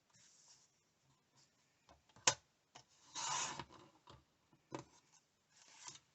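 Paper cut down to size on a trimmer for a Valentine's embellishment book, heard as a few short scrapes and one longer rasping slide up close, with clicks between them and no talk.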